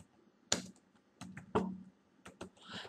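Several separate keystrokes on a computer keyboard as a folder name is typed, irregular taps spaced apart with short bursts close together near the end, crisp and close in a quiet room.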